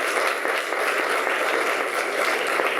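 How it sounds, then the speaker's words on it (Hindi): A congregation claps at a Sunday church service, a dense, steady wash of applause running unbroken for the whole moment with no voices over it. "तालियां बजाएं।"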